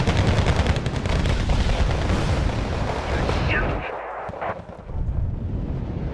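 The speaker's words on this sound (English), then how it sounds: "Alright, artillery time." Artillery barrages in the Wargame: Red Dragon video game, dense rapid booms and gunfire crackling loudly at first, then thinning into scattered distant blasts.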